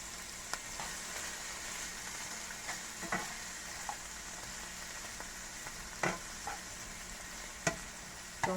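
Vegetables sauteing in two to three teaspoons of vegetable oil give a steady, close sizzle with scattered crackles and the occasional stir, and nobody speaks.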